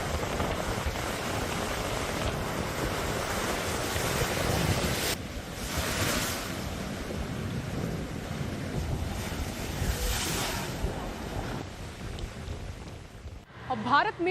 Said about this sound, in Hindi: गुजरात में तेज हवाएं चल रही हैं और ये तस्वीरें गुजरात के समंदर की हैं।